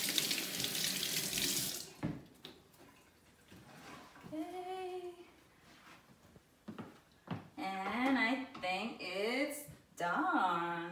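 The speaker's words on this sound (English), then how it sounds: "Let me wash my hands first." Tap water running into a kitchen sink while hands are washed under it, a steady close splashing stream that comes and goes with pauses, while a person talks throughout.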